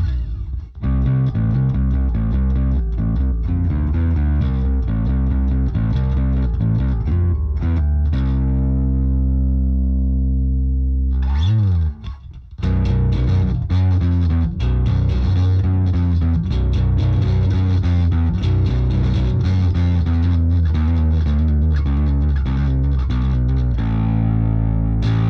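A bass through the Growler distortion plugin plays a steady riff, gritty and saturated, with a brief sliding pause midway before the growling tone resumes.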